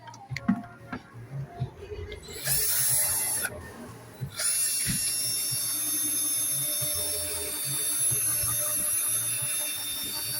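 A polishing machine wet sanding a foggy vehicle headlight lens with 2000 grit on its slow setting starts after some scattered knocks and handling noises, then runs as a steady high whine, cutting out briefly before resuming continuously.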